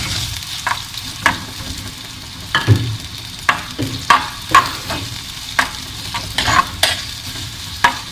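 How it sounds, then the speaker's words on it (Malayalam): Chopped ingredients sauté in a clay pot for duck mappas with a soft continuous sizzle, broken by sharp scraping strokes of a spoon every second or so, up close. "ഇതിൻ്റെ ഒരു പച്ചമണം മാറുന്ന വരെ നമുക്ക് വഴറ്റിയെടുക്കാം."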